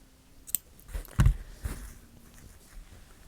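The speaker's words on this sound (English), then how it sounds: "take my scissors and give it a snip" A couple of quiet snips of scissors cutting yarn, brief and close, with soft handling noises around them.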